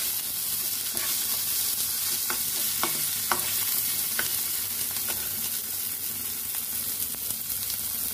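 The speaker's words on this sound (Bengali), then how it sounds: "একটু ভাজা ভাজা করে নেবো আমি।" Chopped tomato, onion, garlic and green chilli fry in a pan, a constant close sizzle with regular spatula stirring scrapes every second or so.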